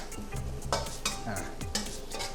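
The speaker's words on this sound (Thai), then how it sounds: "ผมใช้ไฟไม่แรงมากนะ ใช้ไฟอ่อนนะครับ ผมจะเจียวพริกนะครับ ให้มันมีกลิ่นหอมนะ" Chopped chillies fry gently in a pan over low heat, with a soft sizzle broken by the clatter and scrape of a utensil stirring them close up.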